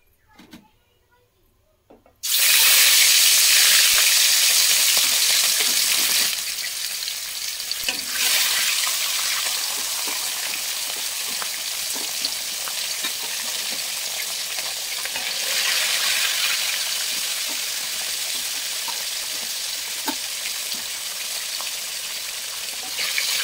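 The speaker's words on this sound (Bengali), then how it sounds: "আমার সাবধানে মাছগুলো দিতে হলো কড়াতে" Small local fish sizzle and fry in a hot wok, a loud, steady crackling hiss that erupts suddenly after a quiet start and continues without pause, with occasional faint stirring clicks.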